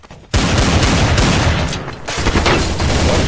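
A TMP submachine gun in Counter-Strike: Source fires a loud, dense sustained burst, rapid shots blurring together with other gunfire for about three seconds after a brief quiet start.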